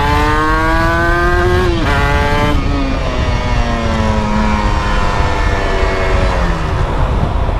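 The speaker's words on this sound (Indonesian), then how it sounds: "ini dari RPM 4000 gitu buka gas langsung mau tuh" A Kawasaki Ninja R 150 L two-stroke motorcycle engine rises in pitch as the throttle opens from about 4000 RPM, a loud close revving whine that climbs, dips briefly and keeps pulling under wind noise.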